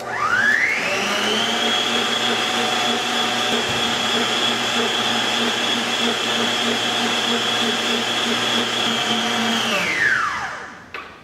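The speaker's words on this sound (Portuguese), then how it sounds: "eu já vou colocar aqui na batedeira para bater o meu creme de leite fresco" An electric stand mixer whips fresh cream, its motor spinning up to a loud, steady whirring drone that holds for about nine seconds before winding down.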